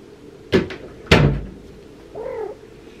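A cat bangs on a closed door from the other side, giving two sharp, loud thumps about half a second apart, followed by a short muffled meow.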